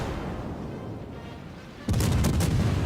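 Naval guns firing on HMS Belfast in World of Warships: a steady low rumble of ambience gives way abruptly to a loud, heavy salvo of booming blasts that carries on to the end.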